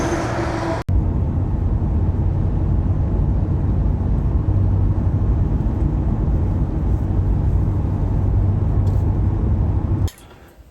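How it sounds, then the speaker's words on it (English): A car arriving at a campsite among the redwoods, its engine and tyre rumble a steady loud drone close by for about nine seconds before cutting off abruptly. "And another car rocking up."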